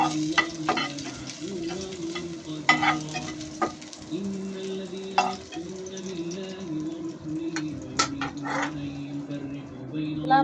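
Chopped onions frying and being stirred in oil in a home kitchen, a steady sizzle with scraping stir strokes, while a voice talks over it and a dog may bark briefly.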